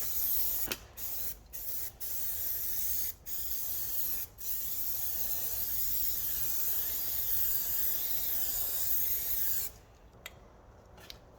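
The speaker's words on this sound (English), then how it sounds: "give some more rust proofing on it" Aerosol rust proofing sprayed onto the body of an Alfa Romeo 145 under restoration, heard as close hissing bursts, several short sprays with brief gaps and then one long continuous spray that cuts off.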